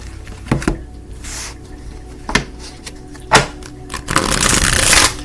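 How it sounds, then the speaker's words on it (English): Tarot cards being shuffled by hand, with several sharp riffling bursts and a longer, louder ruffling at the end, close up and with no talking. "So I've been shuffling these cards for a while"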